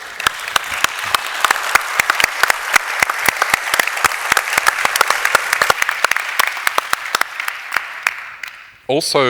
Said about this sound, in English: I'd like us all in the audience to join me in giving a round of applause for our panelists